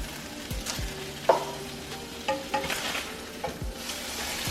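Salisbury steak patties sizzle steadily in a pan, with a few scraping clinks of a spatula and several soft thuds as the meat is turned over, close and clear without speech.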